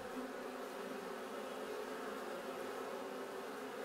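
A dense, continuous buzzing of many bees, steady and even throughout with no pauses.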